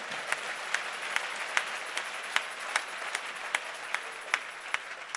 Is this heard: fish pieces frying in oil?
no